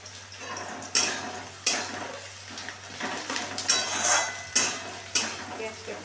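Onions frying in oil in a wok are stirred with a utensil, giving repeated scraping clatters every second or so over a soft sizzle.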